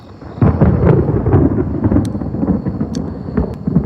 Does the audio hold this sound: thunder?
yes